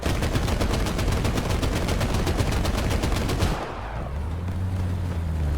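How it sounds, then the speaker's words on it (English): A .50 cal machine gun on top of an M8 LAC fires in War Thunder. It sounds as a rapid, evenly spaced stream of loud shots for about three and a half seconds, then stops and leaves a low engine rumble. "my 50 cal on the top needs a reload"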